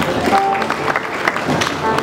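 A church seminar audience claps for Jesus, a brief burst of scattered applause mixed with murmuring voices.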